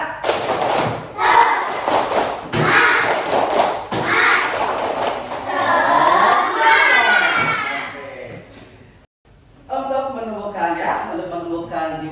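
A group does a rhythmic tepuk semangat, clapping hard in bursts with shouted chanting, then breaks into sung voices after a brief pause.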